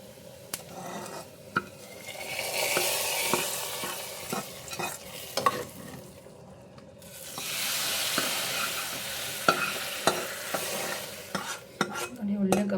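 A tempering of curry leaves and dried Byadagi chillies goes into boiling rasam, with crackling sizzles, clinks of a spoon against the pot and bursts of frying noise near and fairly loud, no talking.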